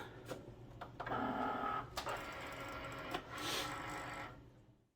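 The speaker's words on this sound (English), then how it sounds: "And then we're going to load our mat into our machine." A Cricut cutting machine takes in a cutting mat while working on a boho rainbow teacher shirt project, giving a close mechanical whir and a few short clicks and feeder rumbles over about five seconds, with no talk.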